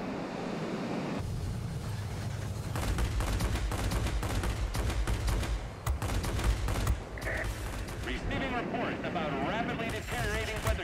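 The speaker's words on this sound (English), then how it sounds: "30 millimeter cannon is just burning up so quickly" Rapid bursts of 30 mm aircraft cannon fire from a Ki-162-III in the World of Warplanes game, loud rattling volleys repeated over several seconds against wind-like rushing and engine noise.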